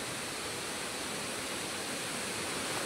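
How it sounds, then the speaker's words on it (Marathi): Savatkada waterfall roars as a steady, loud, broadband rush of falling water with no break or voice. "हा बघा इकडे धबधबा आहे, हा बघा."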